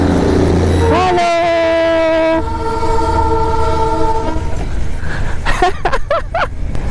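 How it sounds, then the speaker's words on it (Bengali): Darjeeling toy train horn gives a long, sustained blast from a distance over steady outdoor rumble, then fades as brief voices and short calls rise near the end. "দূর থেকে হর্নের আওয়াজ পাওয়া যাচ্ছে টয় ট্রেনের"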